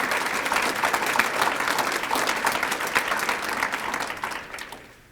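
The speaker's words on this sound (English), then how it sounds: "if we could recognize her with a round of applause, it'd be appreciated." Round of audience applause at a 2021 award ceremony, dense steady clapping from a sizable crowd that holds for several seconds and then tapers off at the end.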